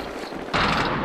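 Mortar fire in the multiplayer game Medal of Honor Warfighter, a sudden loud blast after a quieter rumble, with a rushing decay.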